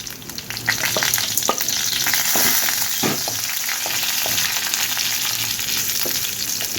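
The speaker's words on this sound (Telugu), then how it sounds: "ఇప్పుడు ఇందులో శనగపప్పు, వెల్లుల్లి, ఎండుమిర్చి, కరివేపాకు వేసుకుందాము." Chana dal, garlic, dried red chillies and curry leaves crackle loudly in hot oil for a tempering, a continuous close sizzle with occasional stirring scrapes.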